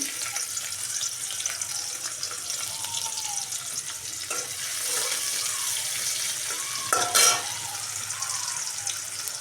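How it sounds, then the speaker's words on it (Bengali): Chopped onion frying in hot white oil in a wok, a continuous bright hiss and sizzle with a sharper burst near the end, close and steady, no talk. "তেলে এখন দিয়ে দেবো পেঁয়াজ কুচি"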